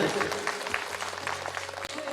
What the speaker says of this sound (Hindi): इनका जोरदार ताली से स्वागत करें।